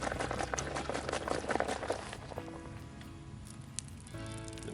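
Murky water is forced through a hiking water filter on a Florida trail, giving wet, sputtering gurgles and squishy crackles that thin into a quieter trickle with faint clicks.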